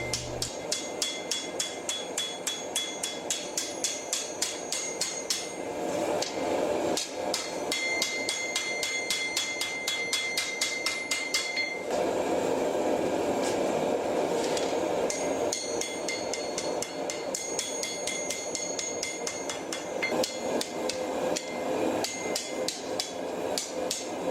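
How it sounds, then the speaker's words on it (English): Steady, ringing hammer blows as bevels are forged into a katana blade, struck in a continuous rhythm with brief pauses, loud and close, metallic clangs throughout with no talk. "as the bevels are hammered in, the metal curves away from the bevel"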